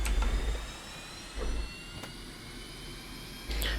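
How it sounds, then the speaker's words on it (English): Low, steady jet engine rumble with a faint high whine from an SU-25T starting its left engine in DCS World, steady throughout with a couple of brief louder swells. "There's the hydraulics light out, so we'll start the left engine."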